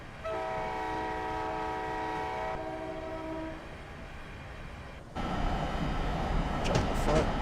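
Passenger train horn heard from outside the train at a crossing on the Northeast Corridor near New York, one long steady chord that cuts off, then a louder rumbling pass of rail cars.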